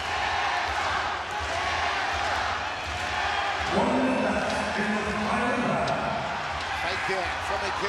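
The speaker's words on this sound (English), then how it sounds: "Have you ever heard a crowd like this?" Fight crowd roaring inside the sold-out Ryogoku Kokugikan arena, a dense, steady wall of cheering and shouting that swells midway, under a commentator's voice.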